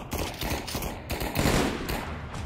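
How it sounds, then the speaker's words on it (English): An MG42 machine gun fires in Pavlov VR: a continuous stream of rapid, ripping shots, loud and close, with bursts swelling and easing over a couple of seconds and no talking. "That's an MG42."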